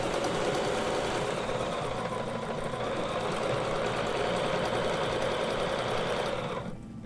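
A sewing machine stitches a quilting line with rulerwork, a close, steady rapid mechanical whirr and needle chatter running continuously for several seconds before slowing at the end.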